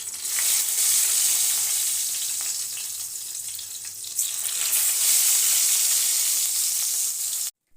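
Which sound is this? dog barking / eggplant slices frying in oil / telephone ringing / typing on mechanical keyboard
eggplant slices frying in oil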